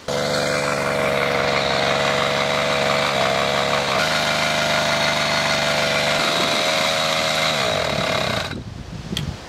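An old, heavily smoking engine idles steadily after starting, a loud buzzing drone with a slightly shifting pitch that runs for about eight seconds before cutting out.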